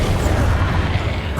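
Spell blast from Confringo, the fire-casting curse in Hogwarts Legacy, rumbling as a dense, continuous low boom that stays loud and steady through the whole moment with no talk over it.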